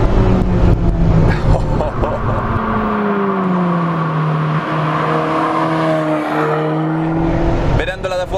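A light Alfa Romeo 4C sports car's turbocharged engine pulls hard on the road, its pitch rising and falling through the gears, loud and sustained from inside the car, with someone talking over it.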